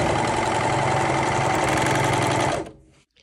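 A sewing machine runs fast and loud along the edges of a bodice, humming steadily up close before slowing and stopping.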